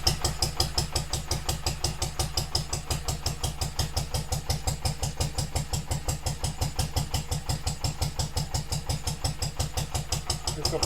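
Vintage Lister D stationary engine running steadily on its first proper run in over 30 years, a close, even, fast-thumping exhaust beat with clattering mechanical knocks throughout.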